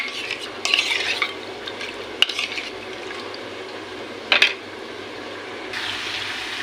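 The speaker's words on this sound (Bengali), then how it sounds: "দেখুন নারকেলের দুধটা খুব সুন্দরভাবে মিশিয়ে দেবেন, যেন কোনো লাম্প না থাকে" A spoon stirs coconut milk through a simmering watermelon rind curry in a pan, with a low continuous bubble and a few sharp scrapes and clinks against the metal.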